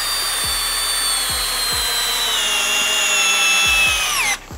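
A Bosch 12V drill running at speed 1 with a 4-inch spade bit, a loud close whine that drops slowly in pitch as it bores through wood, with repeated knocking thumps, then cuts out abruptly at the end.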